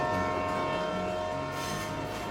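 A Grand Trunk Pacific Railway train in Alberta, heard as a steady, sustained tonal drone like a distant horn or whistle over a low rumble, moderately faint and holding through the whole stretch with no talk.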